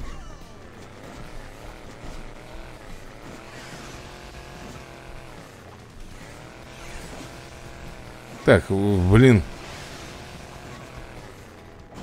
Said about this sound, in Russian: Да, вертушку-то тут не обогнать мне.